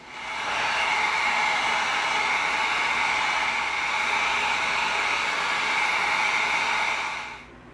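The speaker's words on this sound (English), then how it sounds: "we're gonna heat this up with the heat gun" A heat gun blows steadily on EVA foam, a continuous loud airy whoosh that holds evenly for several seconds and then cuts off at the end.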